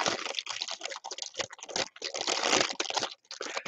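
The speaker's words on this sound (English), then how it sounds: "I love the noise of these bags." Plastic craft bags crinkle and crunch as they are handled up close, in rapid crackly bursts with brief pauses between them.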